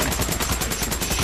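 Rapid automatic gunfire fills a Days Gone horde fight, a dense, loud stream of shots with a steady machine-gun rhythm and no pauses.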